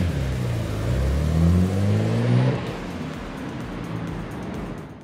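A Nissan Skyline R32 GTR with a complete fresh brake job is driven close by, its engine rising in a loud whirring pull for a couple of seconds before easing off and settling into a quieter roll as the car slows.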